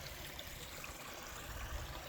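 Water of a small creek flows steadily along the Pacific Crest Trail near mile 4, a constant soft rushing and trickling heard close by with no talk.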